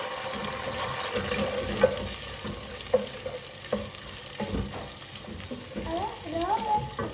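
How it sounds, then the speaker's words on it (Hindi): Onions frying in hot oil for degi chicken qorma give a close, steady sizzle with a few clinks from stirring and brief clatter partway through. "अब आप देख सकते हैं कि ऑयल गर्म हो गया, तो अब इसमें हम अपने प्याज ऐड कर देंगे"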